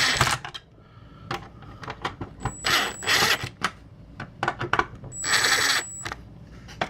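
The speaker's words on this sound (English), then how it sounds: "let's screw the rest of these screws in real quick" Screws are driven into the front panel of an NZXT S340 PC case during a 7-inch LCD mod, heard as a close run of quick clicks and ratcheting scrapes in uneven bursts, with a few brief tonal whines.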